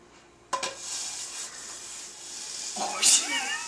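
A grilled cheese sandwich flipped over in a hot, smoking pan: a soft scrape and thump of the spatula, then renewed sizzling as the other side hits the surface, close and moderately loud.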